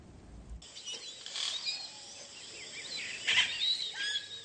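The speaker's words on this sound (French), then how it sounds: "C'est avec un concert de cris d'oiseaux que Saül s'éveille paisiblement." Tropical birds call at dawn in the forest around the village of Saül in French Guiana, a chorus of overlapping chirps and whistles rising after a quiet start, moderately loud with a busier burst near the end.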